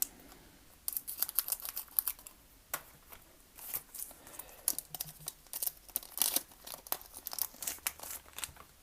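Scissors snip open a Pokémon XY Break card booster pack, with crisp crinkling and cutting rustles of foil wrapper in quick irregular bursts, close and fairly quiet.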